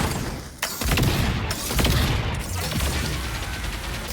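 Rapid bursts of fireworks-like explosions crackle in the fighting game Rivals of Aether, a dense barrage of sharp pops and booms that stays loud and continuous.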